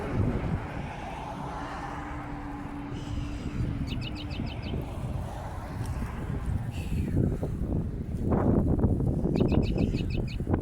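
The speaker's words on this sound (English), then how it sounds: "You're going to hear the wind." Outdoor wind as a nature sound, a steady rushing roar that swells louder near the end, with faint chirping birds over it and no speech.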